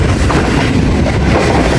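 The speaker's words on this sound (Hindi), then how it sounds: "संजानी से पास हो रही है ट्रेन" Train rolling along a railway track between Attock City and Rawalpindi, a loud continuous rumbling roar with dense wheel and carriage noise, steady throughout and heard from on board.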